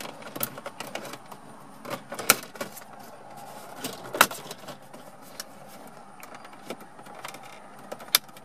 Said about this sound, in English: you'll use a combination of the pry tool and pulling out with your fingers to release the trim.